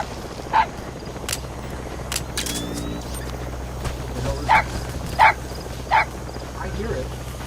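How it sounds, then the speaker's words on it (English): A wild dog pup in Metal Gear Solid V gives short sharp yips and barks, several spaced apart over a steady low background hum, fairly close and clear. "wild dog pup. He's a tough little guy."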